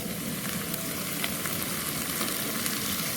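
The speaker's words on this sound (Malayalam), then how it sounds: "ഇത്രയും ചേർത്ത് നന്നായിട്ടൊന്ന് വഴറ്റി കൊടുക്കാം" Onions hiss and crackle in a hot pan as they are sautéed for a chicken curry, a steady close sizzle with faint scrapes now and then and no talking.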